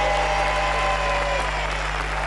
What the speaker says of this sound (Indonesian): Tepuk tangan sama Mas Tommy dong.